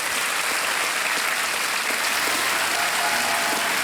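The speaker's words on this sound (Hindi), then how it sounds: "तालियों के साथ इनका स्वागत।" Studio audience applause greets a contestant on Kaun Banega Crorepati, a TV quiz show. Dense, loud clapping is sustained evenly throughout, with no one speaking over it.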